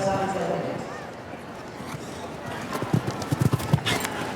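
Hoofbeats of a show jumper cantering and galloping through a Grand Prix round, with a run of thudding strikes growing more distinct near the end, heard under arena noise and crowd ambience.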